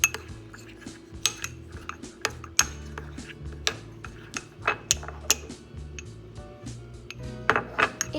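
Snack wafers mixed in a bowl, giving a run of light clinks, rattles and taps at an uneven rhythm, close and fairly crisp, with quiet background music underneath.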